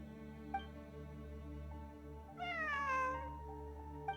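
A cat meows in the video game Genshin Impact, one clear drawn-out meow with a faint short chirp before it, over a steady soft ambient music bed.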